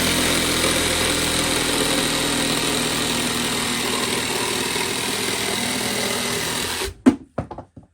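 A Parkside 2-in-1 jigsaw and reciprocating saw fitted with a wood blade cuts through wood, its loud, steady buzzing motor running continuously for about seven seconds before stopping abruptly, followed by a few brief knocks and clatters.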